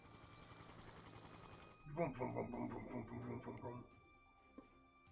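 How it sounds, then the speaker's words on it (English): Private helicopter lifting off in a video game, a short burst of loud rotor chopping and whine that swells for about two seconds and then drops back to quiet. "Director Akikawa takes off into the sky in their private helicopter"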